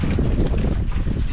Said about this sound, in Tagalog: Hindi tayo pwede magluto dyan kasi mahangin.